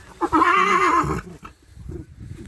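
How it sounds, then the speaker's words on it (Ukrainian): A mare neighs loudly and close by, a drawn-out whinny that falls off into snorting and low rustling. "Зараз покажемо вже кобилу."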